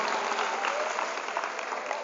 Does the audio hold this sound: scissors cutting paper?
no